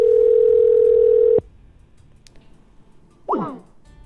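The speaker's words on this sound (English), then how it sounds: "So if I dial it back, it'll call myself." A phone calling its own number gives a steady, loud electronic tone that holds for over a second and then cuts off abruptly, followed by quiet background hiss and one brief fainter sound.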